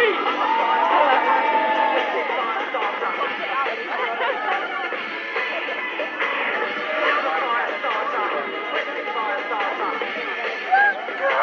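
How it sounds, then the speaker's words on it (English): A crowd at a stunt show fills the air with steady cheering and hubbub, broad noisy babble holding at an even level for the whole stretch, with occasional louder whoops rising out of it near the end. "But I'm sure you'll agree to give a big cheer after 3"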